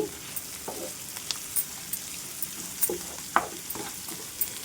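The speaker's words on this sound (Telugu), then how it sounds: "ఇది మనము అటు ఇటు తిప్పుకుంటూ ఫ్రై చేసుకోవాలండి" Cauliflower pieces in masala are stirred and fried in an open pan, a continuous close sizzle broken by repeated scraping strokes of a spatula every half second or so.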